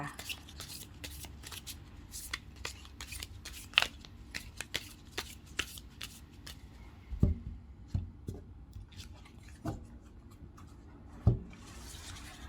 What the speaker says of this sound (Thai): ขออนุญาตจับไพ่สักครู่ค่ะ